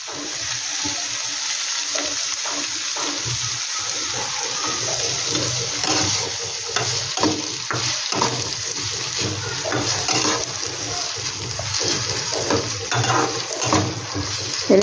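A semolina mixture for tawa idli cooks in a pan with a continuous close sizzle, while a utensil scrapes and clacks irregularly through the mix for several seconds, with no voices.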